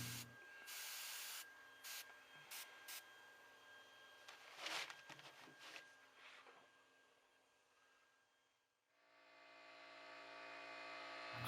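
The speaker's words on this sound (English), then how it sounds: "The only way to truly achieve this kind of weathering control is by using an airbrush." A Paasche airbrush spraying very thin paint to weather a model drone gives short, quiet hissing bursts separated by pauses, followed by silence and then a soft steady hum.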